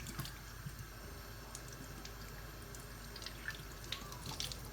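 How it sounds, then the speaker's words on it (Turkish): Delicate zucchini flowers are rinsed under a running tap, a quiet, continuous trickle and splash of water with faint small drips. "Şimdi nasıl yıkandığını narin bir şekilde şöyle önce içini sonra dış kısımlarını aşağı doğru şu şekilde"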